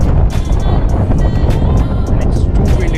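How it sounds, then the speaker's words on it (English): Strong wind buffets the microphone on a windy day where motorcycles are parked, a continuous roaring rumble with gusty bursts, close and loud throughout. "and it's too windy today."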